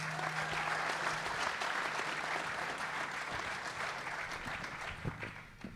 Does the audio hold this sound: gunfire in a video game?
no